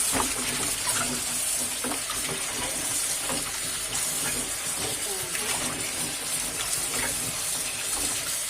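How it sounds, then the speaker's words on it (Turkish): Running tap water pours steadily over grated zucchini as it is rinsed in a kitchen. The continuous hissing stream stays loud throughout, with faint splashes and clatter mixed in. "Ama ben yine de biraz daha yıkayacağım."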